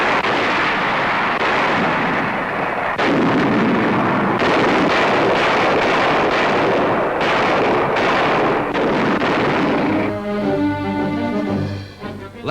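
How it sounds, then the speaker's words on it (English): American warships shell an island in wartime, heavy booming gunfire rolling in repeated bursts over dense, loud noise with a rumbling, crackling texture throughout. "Now Manus, largest of the group, with Los Negros at the tip, is shelled by American warships."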